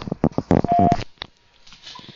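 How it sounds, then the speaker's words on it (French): A single short electronic voicemail beep sounds in the middle of a jumble of clicks and handling noises, followed by quieter tapping. "Veuillez laisser votre message après le bip."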